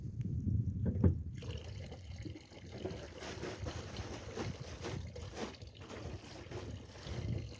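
Water runs and splashes from a village fountain during rinsing, a close, steady gurgling wash that continues throughout with no talk over it.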